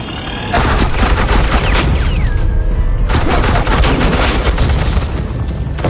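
Suppressing gunfire in the Batman: The Enemy Within video game: loud, dense, continuous automatic fire with rapid overlapping shots, briefly cut short midway before resuming at full intensity.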